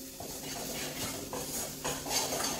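A flour and butter roux stirred in a pan for a lasagna white sauce, a steady soft scraping and clinking of a utensil against the pan with faint sizzling, no talking.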